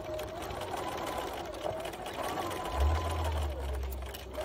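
A sewing machine hums and stitches back and forth across the seam of a fabric medical face mask, a continuous close whir with slight shifts in pitch as the stitching is reinforced.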